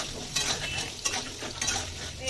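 Pieces of papaya fry in a pan with salt and turmeric, a close continuous sizzle under rhythmic stirring and scraping strokes of a utensil against the metal, with no voices.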